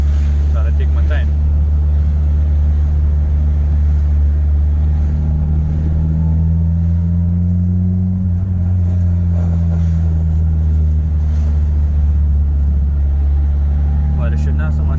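A car drives on rough, potholed Trinidad roads on a Saturday evening, its engine a steady loud low drone with a shifting hum and occasional bumps and rattles throughout.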